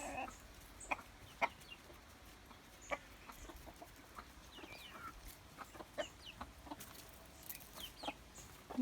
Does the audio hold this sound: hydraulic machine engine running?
no